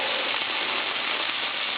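A cheeseburger patty cooking with raw onions in a pan, giving a steady, close, dense sizzle that holds unbroken with no talk.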